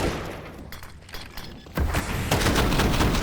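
Rapid gunfire bursts in a Counter-Strike match on the Vertigo map, sharp cracks of automatic rifle fire that swell into a loud, dense barrage in the second half.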